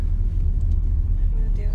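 Car engine rumbling low as it pulls away slowly, a steady close drone under a person talking.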